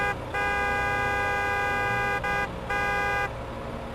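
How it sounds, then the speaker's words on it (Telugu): A cartoon car horn sounds in several sustained honks, the first three separated by brief gaps, with one more honk after a pause, loud over a low engine drone. "సూపర్ స్పీడో హారన్ కొట్టు."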